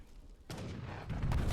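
A heavy cannon volley fires in a real-time strategy battle in Age of Empires III, a dense muffled burst of several overlapping booms building into a rolling rumble, with no voices.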